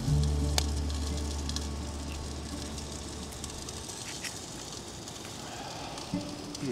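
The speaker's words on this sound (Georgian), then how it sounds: "იწვება ჩვენი სასისკები" Sausages sizzle in a pan at a freezing winter campsite, giving a steady close crackle and spitting patter with occasional louder pops.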